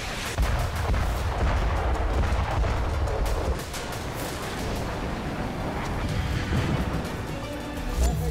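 Israeli airstrikes on Lebanon produce heavy, booming explosions and a dense low rumble, loud and continuous, with crackling debris. The blasts ease slightly after the first few seconds.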